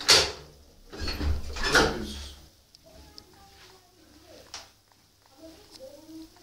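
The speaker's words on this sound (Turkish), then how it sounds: "Kapıyı aç Ali." A door is opened at home, heard as a short burst of clunks and scrapes near the start. Quieter knocks follow, with voices talking nearby.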